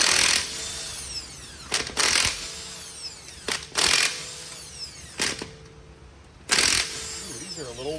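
An impact wrench working on a car wheel in a repair shop, firing in several loud bursts of rattling hammering with short pauses between them, close by.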